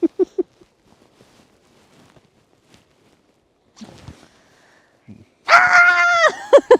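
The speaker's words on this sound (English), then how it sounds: "I can't scream like that." A person at a mountain lake elopement ceremony lets out a loud, sustained high scream near the end, preceded by quiet moments and a few scattered voices.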